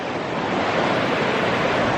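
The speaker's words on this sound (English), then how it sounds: "Water, quite fast flowing water." Fast-flowing water near a waterfall in Costa Rica rushes in a constant, dense hiss and roar, close and even for a couple of seconds with no voices.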